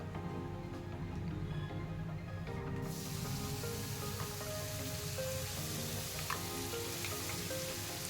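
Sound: pointed gourd paste added to hot oil, sizzling

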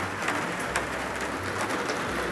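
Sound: rain falling on garden

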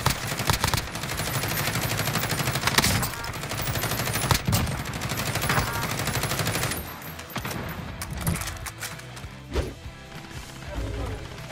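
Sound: machine gun fire shredding a vehicle in video game Warzone

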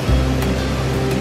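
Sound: waterfall in Costa Rica

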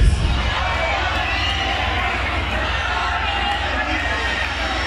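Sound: concert crowd applauding and cheering

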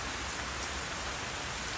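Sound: rain falling

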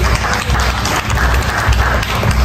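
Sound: applause for Ramo at Harvey Beef

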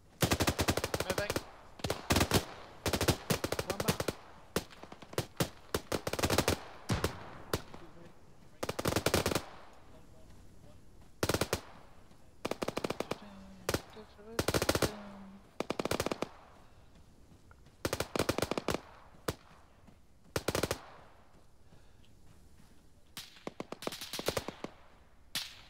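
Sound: gunfire in the video game Arma 3

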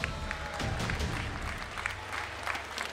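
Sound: audience applauding at esports final

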